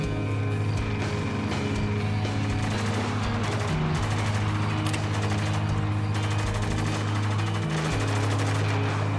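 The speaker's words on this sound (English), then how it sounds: "Where are they shooting at?" Sustained machine-gun fire and gunshots in the Spec Ops: The Line video game, a dense, continuous stream of shots with no talk over it.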